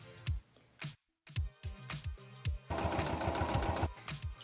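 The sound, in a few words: sewing machine stitching cosplay chest strap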